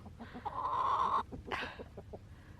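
A backyard hen gives a drawn-out, loud clucking call, then a sharp squawk and a few softer clucks, close by with no talking.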